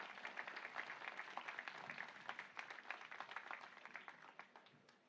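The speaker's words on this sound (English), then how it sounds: "Let's give another round of applause for our keynote speakers, Mr. David Iha and Chancellor Margaret Sanchez." A crowd at the Kaua'i Community College 2025 commencement ceremony applauds in steady, dense clapping that stays fairly distant and soft throughout.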